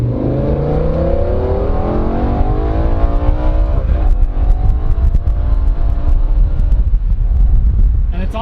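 BMW M5 with a V10 engine and SMG gearbox pulls hard, its loud engine note rising repeatedly and dropping briefly at each smooth upshift, heard from close by.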